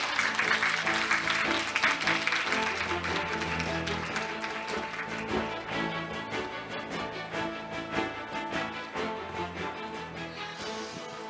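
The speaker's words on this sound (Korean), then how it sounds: "여러분 뜨거운 박수 부탁드리겠습니다" Sustained audience applause in a conference hall as someone speaker is invited on stage, dense and steady for about ten seconds before gradually thinning out.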